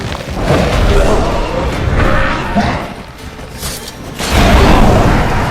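A fire spell in The Witcher 3 erupts in booming, roaring bursts, loud and close, swelling twice with a heavy whoosh and crash.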